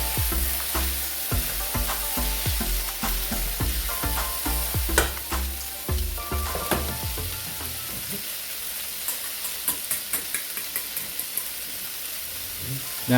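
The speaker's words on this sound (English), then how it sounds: "At some point you have to stop stirring it and let it cook, but I tend to keep the food moving." Food frying in an omelet pan as it is stirred, with a constant sizzle under frequent clattering scrapes and taps of the utensil that grow sparser and lighter toward the end.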